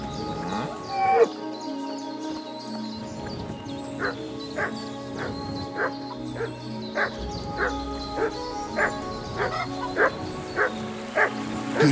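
A dog barks repeatedly in Kingdom Come: Deliverance II, a steady run of sharp, evenly spaced barks over a low droning ambience, close and clear for about twelve seconds.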